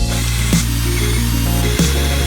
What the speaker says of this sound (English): I drilled 4 holes for the mounting rods and hogged them out because the rods weren't long enough to go all the way through the wood